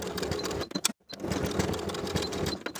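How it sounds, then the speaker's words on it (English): A sewing machine stitches the shoulder seams of a summer dress with a 5/8 inch seam allowance, running in a close, steady rattling hum that stops briefly near one second before starting again, with no talking. "Sew both shoulder seams with a 5/8 inch seam allowance."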